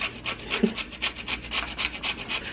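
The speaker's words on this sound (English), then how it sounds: "Now we're going to go ahead and grate some of this lemon zest into the soup here." Lemon zest grated into a pot of soup: a steady run of quick, even rasping strokes, about four per second, close and moderately loud with no talking.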